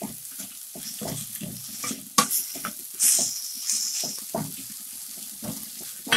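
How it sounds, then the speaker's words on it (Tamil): Mint leaves and curry leaves sauté in a pan for mint chutney, with irregular close stirring and scraping strokes and a light sizzle beneath, plus a few sharper clanks. "பச்சை வாசனை போகிற அளவுக்கு நல்லா வதக்கினுங்க."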